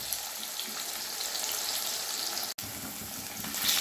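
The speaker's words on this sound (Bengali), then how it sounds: "গ্যাসের ফ্লেম মিডিয়াম রেখে আমি কলাগুলো ভেজে নেব।" Bananas frying in oil over a medium gas flame for a daughter's birthday meal, a steady, dense close sizzle running throughout with a brief dropout partway, no talk.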